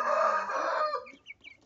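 Aseel chickens heard close up: a loud drawn-out crow for about a second, then a few short soft clucks trailing off.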